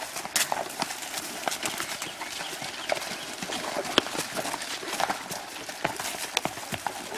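Hooves of a spotted saddle horse clip-clopping along a logging trail near a creek crossing in Virginia, a steady, fairly close stream of hoof knocks over outdoor background noise with faint birds.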